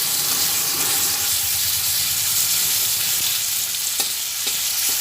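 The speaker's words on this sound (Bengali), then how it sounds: "টমেটোটা দিয়ে ভেজে নিচ্ছি" Tomato frying in a pan over a low gas flame for a vegetarian jackfruit curry, a dense, loud continuous sizzle and hiss up close with a few sharp stirring clicks near the end.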